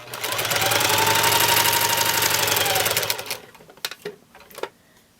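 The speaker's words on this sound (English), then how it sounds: "Make sure you stitch all the way off the edge of your quilt." A sewing machine with a walking foot stitches a quilt in a fast, steady mechanical whir for about three seconds. It stops, and a few light clicks and handling knocks follow.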